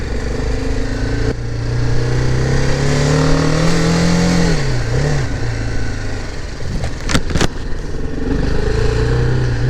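A BMW G310R motorcycle on a test ride revs loud and close, its engine note rising and falling steadily, then dipping briefly before climbing again, with a couple of sharp clicks near the end.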